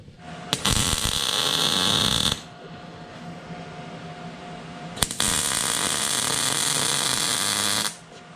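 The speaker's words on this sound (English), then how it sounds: "First time I'm using the 110 hookup. Surprisingly welding extremely well." Welder running on a 110-volt hookup at 18 amps, two bursts of loud crackling buzz, each a few seconds long, separated by a quieter hum.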